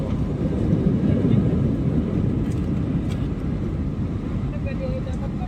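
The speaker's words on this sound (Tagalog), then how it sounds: "Lakas ng preno ng AirAsia." An AirAsia airliner brakes hard after touchdown on arrival at Davao International Airport. A loud, rumbling roar of cabin and engine noise holds steady for several seconds before easing slightly.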